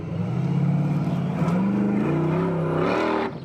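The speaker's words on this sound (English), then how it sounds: "It's a Cowper truck, it's a Chev Corvette powered Cowper truck." A Chevrolet Corvette-engined Cowper truck at an extreme 4x4 off-road competition, its V8 roaring loud and close with a steady growl that climbs in pitch as it revs, then cuts off abruptly near the end.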